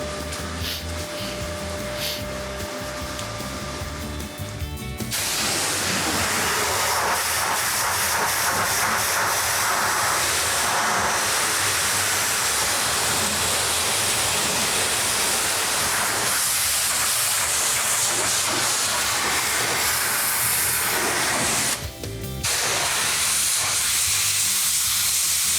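Steady, loud hiss of a pressure-washer spray rinsing a 1969 Plymouth GTX 440 during a car wash, continuous and close for the whole stretch, with a brief pause in the spray near the end.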